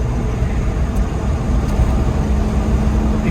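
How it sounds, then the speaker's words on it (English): A 1992 Ford Bronco XLT with a 3-speed transmission idles in a steady, close, broadband engine rumble; a faint high belt squeak is hard to pick out beneath the running motor. "If you hear a little squeaky belt in the background"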